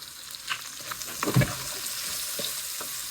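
Green chili, ginger and garlic sautéing with onion in a hot pan, a soft steady sizzle with a few spatula taps and scrapes, fairly quiet and close.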